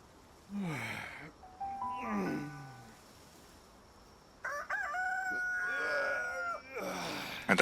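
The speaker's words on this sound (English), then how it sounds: "And that is the same rooster as Stardew Valley." Two rooster crows from the Palworld video game ring out in turn, each a loud, stretched cock-a-doodle-doo, with a quiet gap between them and a background tone underneath.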